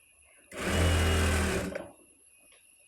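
A sewing machine stitching a silk skirt and top for a baby outfit, running in one loud, even burst of a little over a second before stopping, with quiet room sound on either side.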